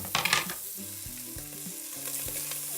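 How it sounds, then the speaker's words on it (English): Bacon lardons sizzle steadily in a hot pot, a continuous close frying hiss with a few louder crackles and stirring scrapes near the start, no voices. "So our pot is hot and our bacon is in."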